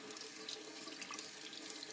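Hot tap water runs steadily over a plastic bag holding an egg, a continuous close hiss and splash with no pauses and no voices.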